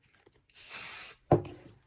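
One brief hissing burst from a can of spray adhesive, lasting under a second, followed by a soft clunk nearby.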